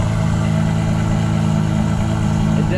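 An Aston Martin V12 Vantage S with an F1 exhaust idles close by, a loud, steady, smooth multi-cylinder drone with a strong low hum and no changes in revs.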